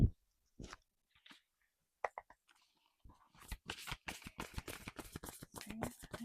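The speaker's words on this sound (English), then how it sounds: "So let's pull another card." Tarot cards are handled and drawn, with a few scattered slides and taps first, then a long run of rapid, crisp riffling flicks close up, with no talk.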